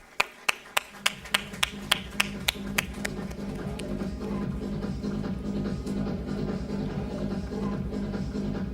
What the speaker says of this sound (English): let's put a big round of applause.